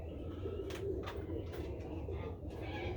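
Pigeons or doves in an aviary give soft, low cooing over a steady hum, with a few brief sharp sounds scattered among the calls.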